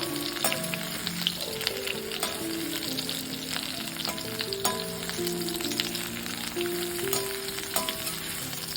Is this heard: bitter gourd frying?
yes